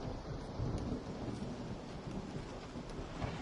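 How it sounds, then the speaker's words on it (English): Thunderstorm in the horror video game Resident Evil 7 on a dark, wet, windy night: heavy steady rain with low rumbling thunder throughout, continuous and fairly loud, with no voices. "A dark, wet, windy, stormy night."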